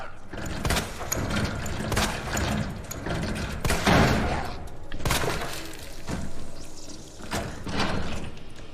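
Gunfire from a handgun rather than a shotgun in Resident Evil 2, sharp cracks spaced irregularly over a steady, busy game soundscape, with a cluster of louder hits near the middle.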